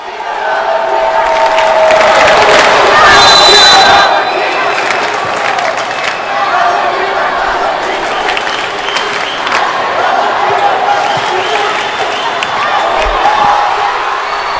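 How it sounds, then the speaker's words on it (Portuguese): Futsal fans in the stands at a Palotina versus Santa Helena cup match roar and cheer continuously, loud and dense, with a swell early on and crowd noise sustained throughout. "E eu trago para você a nossa torcida."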